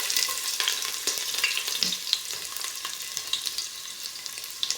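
Ginger slices frying in a hot pan as the base for chicken adobo with lemongrass, giving a steady, close, crackling sizzle with small pops throughout and no talking.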